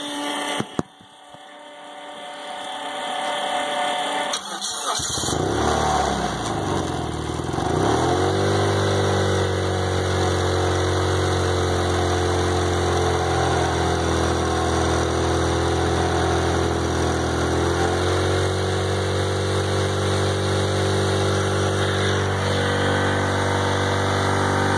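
After a brief clatter and a starter whir, a turbocharged Honda R18 1.8L engine fires up and settles into a loud, steady idle that drones on with slight pitch wavering.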